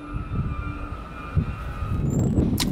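A Stuttgart train, a new electric locomotive hauling old n-Wagen coaches, rumbles past with a steady low rolling roar, a faint tonal whine and a brief high squeal near the end.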